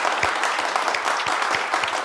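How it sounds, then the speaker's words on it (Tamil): An audience at a Holy Family Day event claps to welcome a team, a dense, close burst of applause with steady overlapping hand claps throughout. "அவங்கள ஒரு பெரிய கைத்தட்டலோட வரவேற்கலாம்"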